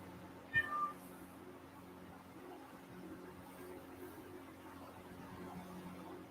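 A single short cat meow sounds near the start, fairly close, then only a quiet steady indoor hum remains with no further calls.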